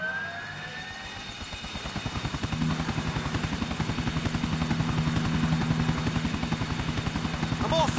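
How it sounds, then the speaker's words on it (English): A helicopter in Grand Theft Auto IV thuds along with a fast, steady rotor chop over a turbine whine, starting quieter and growing louder and closer as it flies. "let's get in the chopper"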